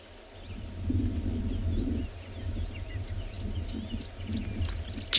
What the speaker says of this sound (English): I can hear the different birds calling in the valley below